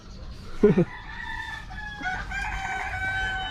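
Chickens, including about a dozen hens, cluck in a coop while eating: one louder squawk near the start, then steady murmuring clucks over a faint background.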